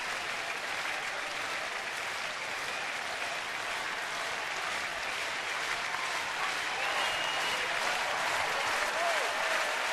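A baseball stadium crowd of nearly 30,000 applauding and cheering at a night game, a dense, steady roar of clapping that swells slightly toward the end.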